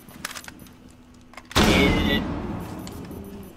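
A flashbang grenade detonates in the Siege video game: a sudden loud blast cuts through faint background sounds and leaves a dense hissing, ringing wash that fades slowly over the following seconds.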